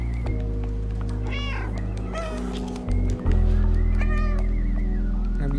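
Cat meows from the video game Stray, two short calls over a low rumbling background, moderately loud.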